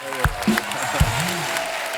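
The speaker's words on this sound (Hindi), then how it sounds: "एक जोरदार तालियां हो जाए यार" A studio audience on The Kapil Sharma Show claps in a continuous wash, with voices and laughter rising over it in short bursts.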